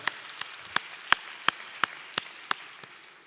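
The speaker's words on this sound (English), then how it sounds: "you all deserve a round of applause" At a business school graduation ceremony, about ten single claps ring out at a slow, even rhythm, crisp and fairly faint against a quiet hall.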